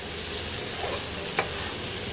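Shrimp jhuro frying in a pan, a steady soft sizzle throughout with one brief scrape of stirring.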